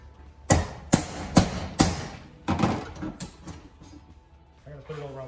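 A run of loud, sharp hammer blows in quick succession, about eight strikes, while mounting a racing fuel cell in a pickup truck bed, followed by quieter clatter and a voice starting to speak.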